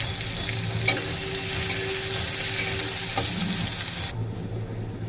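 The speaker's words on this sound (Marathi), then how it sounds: "कांदा पण छान असा आपल्याला परतून घ्यायचा आहे" Chopped onion sautés for upma in a pan, a constant close sizzle with occasional stirring clicks and scrapes, easing off slightly near the end.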